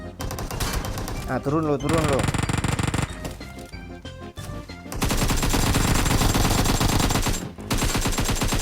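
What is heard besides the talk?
gunfire from PUBG Mobile video game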